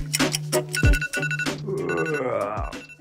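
A bedside alarm clock rings loudly and close by in a home setting, sounding bright repeating electronic tones in short bursts.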